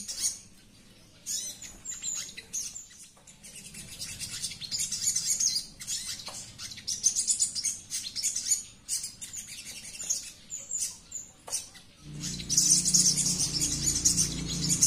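Sogon birds during a bird trekking session, with high chirps and tweets coming in scattered bursts, growing busier and louder toward the end, with no talk.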